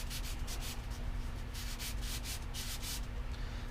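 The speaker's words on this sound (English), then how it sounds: "I'm tilting this as far toward that knife edge, the trailing edge, as I can while I'm sanding here" Rhythmic sandpaper strokes rasp back and forth against a wooden propeller's trailing edge, steady and close, with a faint constant hum underneath.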